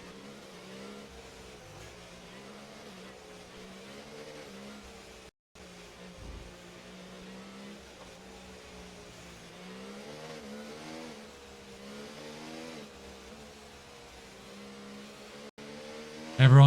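Race cars in a racing video game circle the Singapore street circuit, a steady, fairly quiet engine drone with shifting pitch that runs on and slows under a virtual safety car, with a louder burst at the very end.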